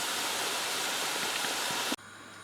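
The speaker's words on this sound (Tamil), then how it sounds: "இப்போ பெரிய ஒரு பாத்திரத்தில் தண்ணி கொதிக்க வச்சுருக்கிறேன். அது கொதிக்குது." A steady, rushing roil of water boiling hard in a large pot, fairly loud and continuous, cutting off abruptly near the end.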